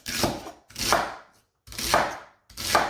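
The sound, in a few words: chopping celery with a Tupperware Chef Series Pro knife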